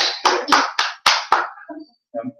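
Sparse audience clapping at a live-streamed author panel: about six sharp, close claps in quick succession, then a brief quiet tail with faint murmuring.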